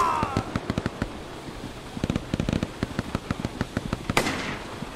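Rapid gunfire in a first-person shooter video game, bursts of sharp cracks in quick rhythmic runs with short pauses, fairly loud and up front, with a brief swoosh near the end.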